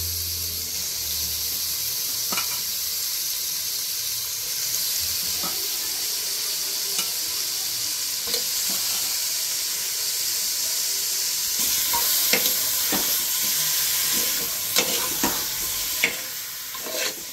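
Chicken sautéing with garam masala for a varutharacha chicken gravy, a continuous loud sizzle and hiss in the pan with scattered sharp stirring clicks and scrapes, more of them toward the end.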